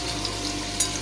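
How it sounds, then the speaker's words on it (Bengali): Potatoes fry in a pan, a steady soft sizzle with a small crackle near the end, heard alone. "আমি কিন্তু আলুটা ভাজা বসিয়ে দিয়েছি।"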